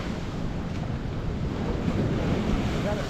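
Churning sea waves breaking at the shore, a continuous low surf rumble mixed with wind buffeting the microphone, steady and moderately loud with no voices.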